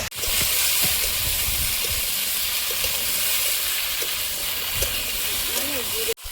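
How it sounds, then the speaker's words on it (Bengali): Vegetable stems are added to potatoes frying in a pan and lightly stirred, giving a steady loud sizzle and hiss with soft scraping and clinks of the spoon throughout. "ডাঁটাটা দিয়ে হালকা নেড়ে নেবো, নিয়ে জল দেবো"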